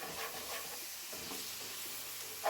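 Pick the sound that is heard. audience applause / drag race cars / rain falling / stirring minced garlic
stirring minced garlic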